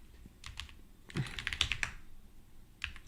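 Keystrokes on a USB computer keyboard attached to a RISC-V development board, a few scattered clicks followed by a denser burst of quick typing, then one last tap, close and fairly quiet.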